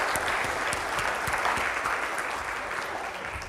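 An event audience breaks into a big round of applause, a continuous wash of clapping that holds steady and then begins to fade slightly toward the end.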